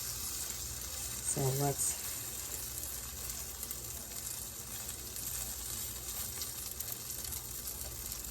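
Two chicken pieces fry in an uncrowded pan, a quiet, steady sizzle hissing continuously while a person briefly speaks near the start.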